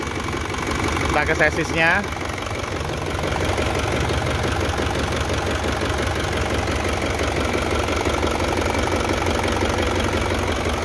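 An Isuzu Elf NKR71 truck engine from 2009 idles steadily and fairly close throughout, with a continuous rumbling knock, while someone talks over it.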